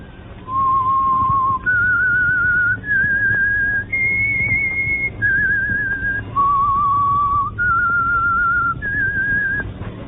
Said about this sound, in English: whistle is your signal for the signal oil program,